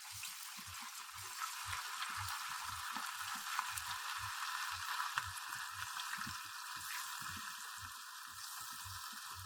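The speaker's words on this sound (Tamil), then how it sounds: "எண்ணெய் சூடான பிறகு கொஞ்சம் கொஞ்சமா நெத்திலியை போடுங்க" Anchovies (nethili) dropped into hot oil in a kadai sizzle with a continuous bright crackling hiss, steady and close, under a soft low rhythmic thumping in the background.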